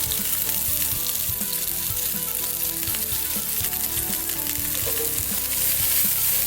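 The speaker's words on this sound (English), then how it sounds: "Now you saute your vegetables." Bell peppers, carrots, bean sprouts, Napa cabbage and celery sauté over very high heat for hakka noodles, a dense continuous sizzle with rhythmic stirring clatter throughout.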